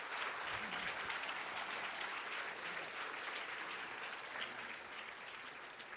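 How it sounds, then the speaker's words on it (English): Symposium audience applauding steadily, a dense continuous clapping that holds strong for the full length and eases only slightly at the end, with no talk over it. "can we just get a massive round of applause for the participants and the sponsors?"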